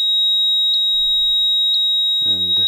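A steady high-pitched electronic buzzer tone from an Arduino laser trip wire sounds continuously, loud and close, with a brief voice breaking in at the end.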